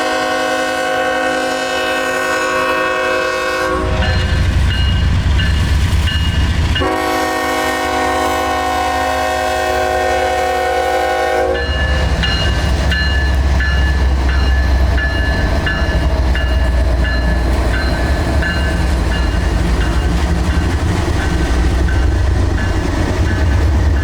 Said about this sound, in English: The train now entering the Big Bend spur from the left-hand Big Bend siding track is down to 10 miles an hour